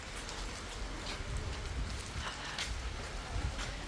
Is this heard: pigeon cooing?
no